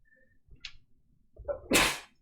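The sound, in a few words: sneeze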